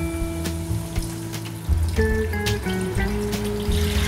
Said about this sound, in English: Okay, so pour that right in.